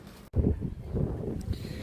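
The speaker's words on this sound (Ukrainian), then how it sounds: "трішки вітряно" Low, blustery wind buffets the microphone in a steady rumble, broken by a brief dropout near the start.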